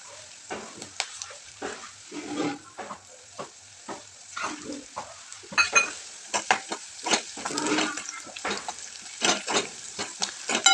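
Green chillies and curry leaves fry in oil for upma, making a soft sizzle broken by frequent sharp stirring scrapes and clinks of a spoon against the pan.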